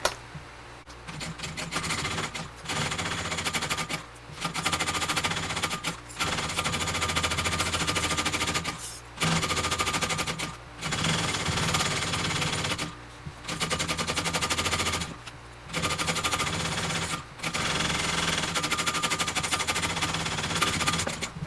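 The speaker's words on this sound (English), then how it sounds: "So now that I've done that, I can go ahead now and baste our 2 layers together." A sewing machine bastes two layers of a backpack together, running in steady rapid-stitch bursts of a few seconds each, separated by short pauses, close and even throughout.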